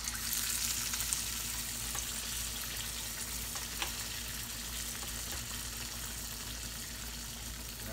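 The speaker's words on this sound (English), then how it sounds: "Put them right in the oil." Small pieces of fried sweet potato pie dropped into hot oil, a dense steady sizzle and bubbling hiss close by, with a few faint clinks and no voices.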